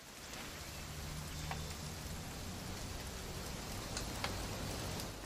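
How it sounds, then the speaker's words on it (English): Steady, soft rain falls in the video game What Remains of Edith Finch, a continuous even hiss of drops on surfaces with a few sharper taps, quiet and unbroken. "It's gonna rain the whole weekend,"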